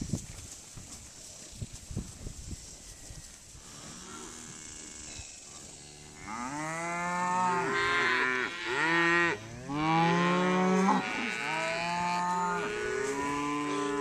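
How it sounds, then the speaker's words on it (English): Black Angus cattle in a pasture let out a series of loud, drawn-out moos from close by, several overlapping calls following quieter rustling and thumping at the start. "there's gonna be 100 plus of these black cows."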